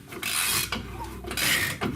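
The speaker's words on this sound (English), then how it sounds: "I might switch over to the longer ratchet actually" Ratchet working a nut on the shock of a 2007 Dodge Ram 1500, rapid rasping clicks in two short bursts, close and loud with no talk.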